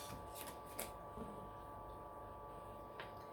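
Tarot cards being shuffled and drawn during a card reading, soft papery riffles and a few crisp snaps over a low steady background hum, with no talking.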